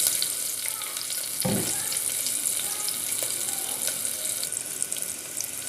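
Sliced onion frying in ghee in a pan for Tamil ghee rice, a steady close sizzle with occasional stirring scrapes and a brief clatter of a utensil, no talking.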